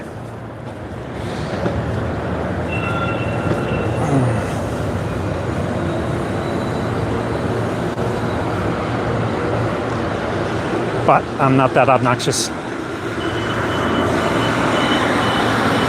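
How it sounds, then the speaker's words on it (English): A train passing, a long steady rumble and rolling rail noise with brief metallic squeals and clatter midway, while someone talks over it. "That is my train."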